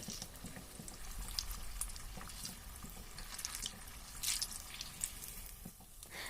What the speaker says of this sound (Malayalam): രണ്ട് ഭാഗവും നല്ലപോലെ ഫ്രൈ ആവുന്നത് വരെ നമുക്ക് ഇതൊന്ന് ഇളക്കി കൊടുത്ത് ഫ്രൈ ചെയ്തെടുക്കാം.